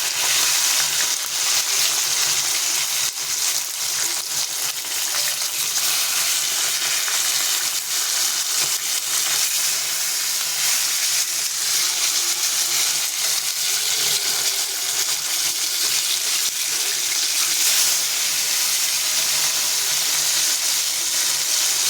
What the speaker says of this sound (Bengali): মাছ বসে দিয়েছি, মাছটা ভাজা হচ্ছে